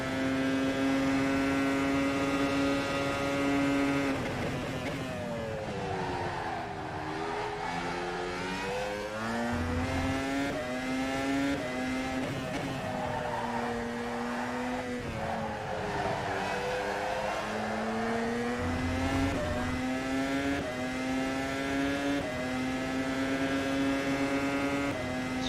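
Formula car in rFactor lapping Zandvoort, its engine a loud, continuous high-pitched whine that rises and falls through gear changes and corners, with brief downshift dips and no one talking over it.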